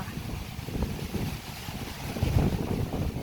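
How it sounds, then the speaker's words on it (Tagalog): Strong wind buffets the microphone on a beach at Coron, Palawan, a continuous low rumbling roar with gusts swelling louder near the end, with no voices heard. "Mahangin lang talaga guys."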